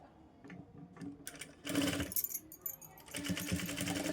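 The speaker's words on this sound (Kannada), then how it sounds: "1/4 ಇಂಚಿಗೆ ಸ್ಟಿಚ್ ಮಾಡ್ಕೋಬೇಕು" A sewing machine stitches piping onto a plain blouse a quarter inch from the edge, giving short, close whirring bursts that start and stop, the longest near the end.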